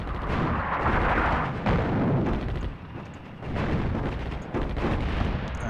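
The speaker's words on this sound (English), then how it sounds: "Artillery, fire." Artillery fire in the World War II North Africa strategy game Attack at Dawn: North Africa, a dense stretch of booming blasts and rumbling explosions rolling on one after another, loud and continuous.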